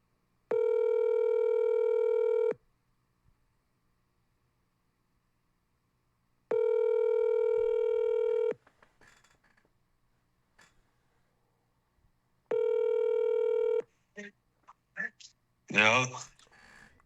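A telephone dial tone sounds three times in steady two-second bursts with silent gaps, followed by quick touch-tone dialing beeps and a brief muffled voice near the end.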